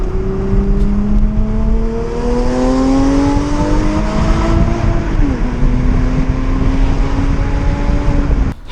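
A straight-piped Dodge SRT8 roars loudly and steadily, its engine tone rising slowly and then dipping once before holding a deep, raspy drone close by.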